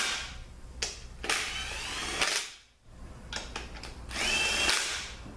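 Power tool bursts tightening transmission bellhousing bolts in a star pattern on a 6L45/50 gearbox, several short, loud whirring runs of varying length with brief pauses between them.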